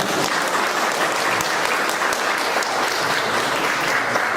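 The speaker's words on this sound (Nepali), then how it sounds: "कुरा बुझ्नुभएको लागि ताली बजाइदिउँ न" A church congregation at a Nepali sermon breaks into steady, dense applause, a full wash of many hands clapping together without pause, loud and sustained throughout.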